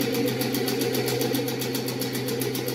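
A computer embroidery machine beginning to stitch, a steady mechanical motor hum with fast regular clicking pulses from the needle, close and continuous.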